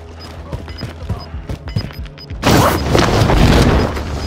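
A single heavy video-game sniper shot booms out and leaves a loud, sustained roar of reverb and noise after several lighter clicks and thuds, all without speech.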